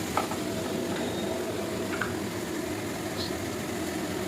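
Spice paste for a shrimp curry sizzles steadily in a pan just after a splash of water goes in, a soft continuous frying hiss with a few faint clinks, no talking.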